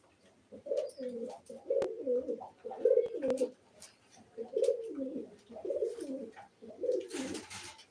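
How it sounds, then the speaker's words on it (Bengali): Six caged pigeons coo close by in repeated throaty phrases, a rhythmic series of low rolling calls separated by short pauses, with no talking. "ছয়টি কবুতর আছে"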